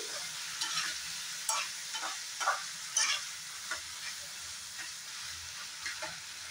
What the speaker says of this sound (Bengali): 2-1 মিনিট ভালো করে ফ্রাই করে নিব। আলু পেঁয়াজটা ভালো করে ফ্রাই করে নিয়েছি।